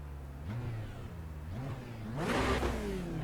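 In a racing sim game played on a motion rig, a car engine idles and blips, rising in pitch in short revs before a louder, sustained rev near the end.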